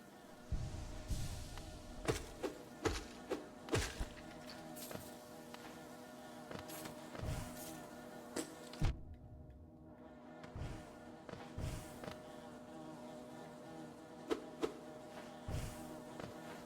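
Bees buzzing in a video game, a steady insect drone layered with repeated soft thumps and clicks, holding evenly for a long stretch before dropping out briefly and returning.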